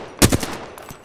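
Gunfire in the battle royale game Apex Legends: two or three quick, loud, close shots with a brief reverberant tail, and no talk.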